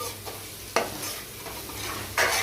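Masala powder is stirred into a mixture frying in a pan: a soft, continuous sizzle with a few sharp scraping strokes of the spoon, one near the start and one near the end, with no talking.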